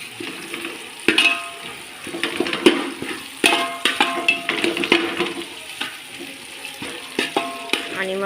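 Ginger garlic paste frying in a pan with tomato, onion and chili for biryani, sizzling steadily with repeated scraping and stirring clatter up close.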